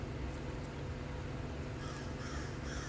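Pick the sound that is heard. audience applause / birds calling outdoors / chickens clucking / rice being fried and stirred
birds calling outdoors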